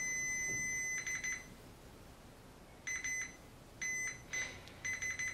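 Bursts of high-pitched electronic beeping from a multimeter continuity tester checking a faulty connection in an ARP Pro Soloist synthesizer come and go in uneven clusters, with quiet gaps between them, fairly close and clear.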